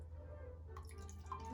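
A small splash of water poured into a flower container during a Mother's Day plant arrangement, faint light trickling and dripping over a low steady hum, with no talk.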